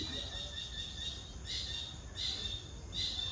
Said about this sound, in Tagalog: Wow, ang ibon.